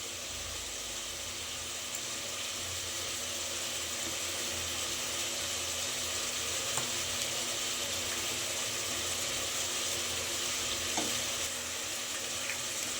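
Chicken gravy masala in Mysore style, with water just added, simmering and being stirred in a pan: a steady, soft frying hiss with faint scraping, continuous and close, with no talking.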